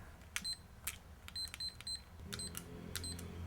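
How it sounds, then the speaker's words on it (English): A kitchen timer is dialed and set for thirty seconds, giving a series of short, faint high beeps and clicks in an irregular sequence, close and quiet against a low room murmur. "grab your timer if you have one of these kitchen timers and set it for 30 seconds"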